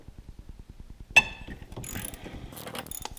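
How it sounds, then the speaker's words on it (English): A ratchet on a long extension turning a bolt while replacing glow plugs on a Jeep Liberty CRD engine, giving a quick run of even clicks, then a sharp metallic clank and some scraping handling noise, close by. "Had to get a longer extension for the second bolt here"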